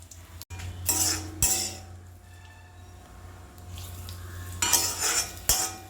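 A spoon scrapes and clinks against a pot in a few brief bursts of stirring fried mustard seeds into daangar pachadi, with quiet pauses between, close by.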